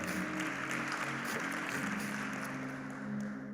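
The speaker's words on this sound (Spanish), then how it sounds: "Vamos, si vas a aplaudirlo con todo nuestro corazón." Steady applause from a church congregation, a dense even wash of clapping at moderate level that carries on without break, with no voices standing out.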